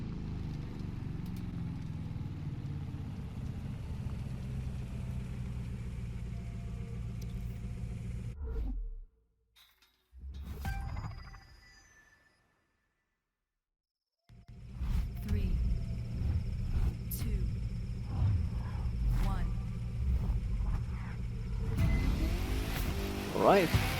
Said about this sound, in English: Alright, first hypercar race with our Jesko